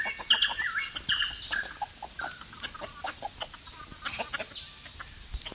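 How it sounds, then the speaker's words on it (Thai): Chickens at a temple hut, several birds clucking and squawking in short bursts at close to moderate distance, busier at first then sparser and quieter, over a faint outdoor background with no talk. "ก็จะเจอไก่ เจอไก่เต็มนะครับ"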